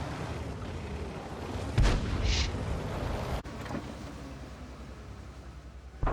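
A tank fires a high-explosive shell in a tank video game: a single heavy boom with a low rumbling tail, loud over a steady background of engine and battle noise.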